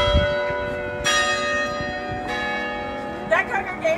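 Church bells ring out from St. Philip's Episcopal Church in Charleston, sounding long, resonant strikes that overlap and decay, fairly loud with faint background noise.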